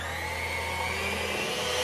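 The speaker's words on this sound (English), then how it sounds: "you could use a stand mixer or a hand mixer, and we're gonna get these potatoes really smooth." A hand mixer whirs steadily while beating cooked sweet potatoes smooth for a vegan sweet potato pie, one continuous close motor drone with no talk.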